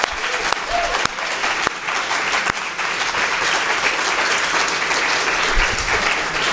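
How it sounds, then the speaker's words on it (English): An audience at a Long Island Sound restoration and stewardship briefing applauds the presenters with sustained, steady clapping, loud and continuous throughout, a few sharp individual claps standing out near the start. "let's applaud all the briefers once again for an excellent presentation."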